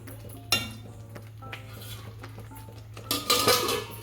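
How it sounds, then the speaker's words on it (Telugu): A metal lid set onto a pan of coconut halwa in a home kitchen, with a sharp clatter near the start, scattered light clinks through the middle and a louder burst of metallic rattling near the end, no talk. "కొద్దిసేపు మూత పెట్టేసి ఉడికించుకుందాం"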